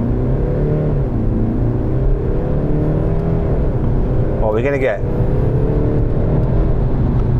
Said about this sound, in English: Right, I'm gonna launch this car.